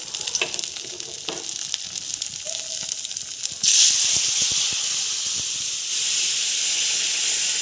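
Boiled lentils poured into a hot pan for dal, setting off a sudden, loud hiss of sizzling steam that holds steady after some earlier quiet kitchen clatter.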